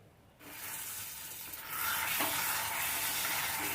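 Paneer masala curry with fresh cream and coriander is stirred in a hot pan, giving a steady sizzle with a scraping stir that grows louder and fuller partway through.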